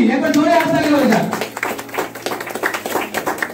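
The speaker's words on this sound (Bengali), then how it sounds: "একবার জোরে হাততালি হয়ে যাক" Staff gathered at an office opening day in Balurghat clap in an uneven patter following a loud announcing voice, the claps continuing steadily with scattered talk underneath.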